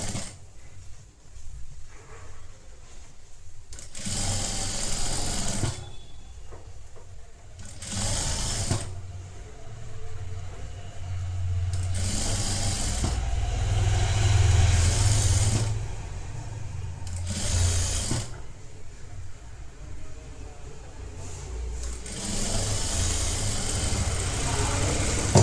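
A sewing machine stitches a netted blouse in several bursts of fast, whirring mechanical chatter lasting a few seconds each. Quieter pauses separate the runs, and a voice speaks between them.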